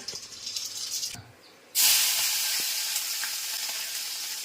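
Mustard seeds hit hot oil in a pan, a faint rustle giving way to a sudden loud, steady sizzle that hisses on without pause, close by.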